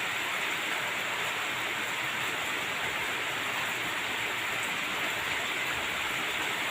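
Rain falls steadily during an all-day rainy spell near flooding rice fields, a dense, even hiss that stays constant throughout with no voices.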